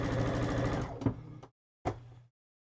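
A sewing machine stitches quilt pieces into rows, running in a steady, close whirring burst, then stopping, followed by one short second burst.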